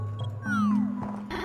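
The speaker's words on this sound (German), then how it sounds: "Meine Katze Gilgamesh hat eine Hundehütte." A cat meows once with a falling, drawn-out cry, heard close and fairly clear over faint background sounds.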